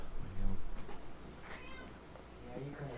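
A cat meows a few times in a studio during a relaxed evening hangout, moderately close and fairly quiet, mixed in with people chatting nearby.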